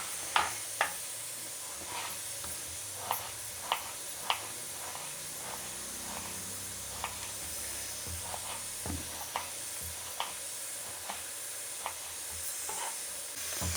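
Onions fry in a pan, giving a continuous moderate sizzle and hiss. Scattered utensil clicks and oil pops come every second or so over the whole stretch.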